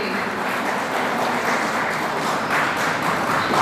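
An audience at a Hindi-language talk by a civil service officer gives a dense, steady round of applause that fills the space, sustained and even without pauses from start to finish.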